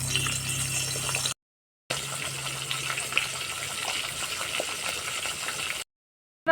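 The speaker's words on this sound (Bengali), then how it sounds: "এবার আমি ভাজে নেবো মাথাটা সুন্দর করে।" A fish head sizzles as it fries in a pan of oil for a Bengali lentil dish, a steady close hiss and crackle, broken twice by short silent gaps.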